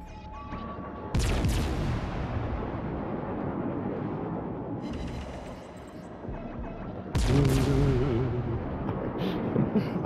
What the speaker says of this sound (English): I'm shooting Repo right now.